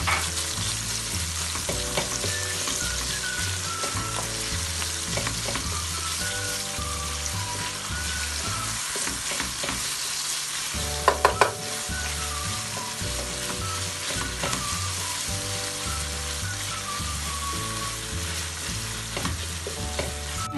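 Tomato paste sizzling and frying in a pan while İzmir köfte is cooked on the stovetop, a steady, dense hiss with a few brief clicks partway through, under continuous background music.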